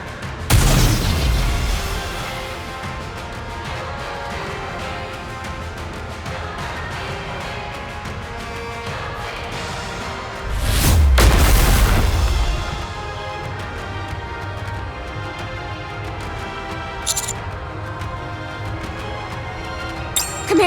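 Gunfire and explosions in the anime-style shooter Goddess of Victory: Nikke, with a heavy booming blast at the start, a second large explosion around the middle, and a steady rumble of battle noise between them.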